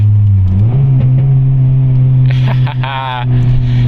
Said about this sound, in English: Let's see if we get some perfect downshifts.